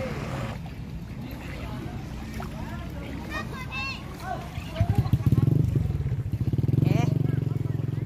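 A motorcycle engine revving and chugging as it tries to cross a flooded road in Agusan, with a loud rhythmic putter rising near the end while people talk over it.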